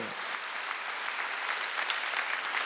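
A church congregation at a Sunday worship service claps together in a steady, sustained burst of applause that fills the room at an even level from start to finish.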